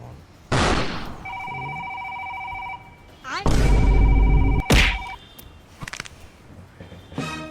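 A mobile phone rings with steady repeating electronic tones, played in short bursts at a moderate distance, broken by loud thumps and bangs as someone searches for it, with people talking throughout.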